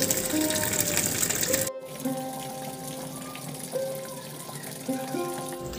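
Water gushes into a tub being filled for washing leggings with shampoo at home, a loud steady rush that cuts off abruptly, followed by a quieter background hum with faint tonal whines.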